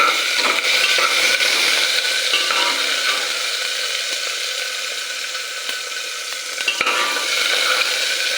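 Tomato fries in oil with a cumin tempering, sizzling loudly and steadily up close, with soft stirring and a few faint clicks and no voices.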